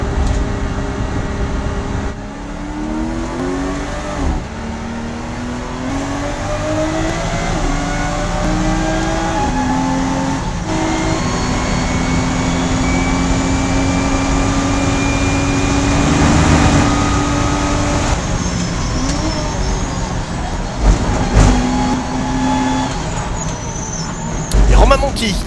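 A race car engine screams through repeated upshifts and downshifts during qualifying, rising and falling in pitch as it laps, loud and continuous beneath a French commentator's voice.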